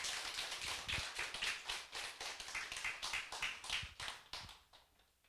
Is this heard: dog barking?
no